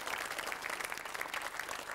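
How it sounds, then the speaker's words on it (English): Applause from the studio audience of the Countdown word game show, quiet and distant, a brief steady patter of many hands clapping with slight rises and dips. "I think a round of applause for that"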